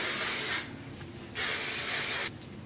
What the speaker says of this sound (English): so we're going to do a final spray of hairspray.